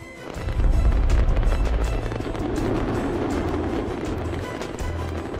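Fireworks bursting at the Carcassonne display: a run of deep, rumbling booms that roll into one another, loud and continuous, with a dense crackling wash above them and no voices.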